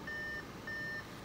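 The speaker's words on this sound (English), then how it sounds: "it's beeping because the door is open" Two evenly spaced electronic door-open warning beeps from a 2015 Audi A4, with a third starting, over a low background hum.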